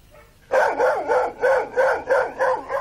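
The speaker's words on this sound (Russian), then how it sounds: "Азавак — сторожевая собака, она подает голос, когда чует опасность или когда в доме что-то не в порядке." An Azawakh, an Arabian sighthound, lets out a loud close series of about six rhythmic, slightly howling barks in quick succession after a brief quiet moment.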